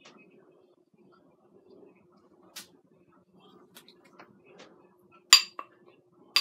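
A spoon scooping homemade chicken pot pie with crust and string beans out of its baking dish, giving faint, sparse clinks and taps against the dish that build to a brighter metallic clink near the end, quiet and close.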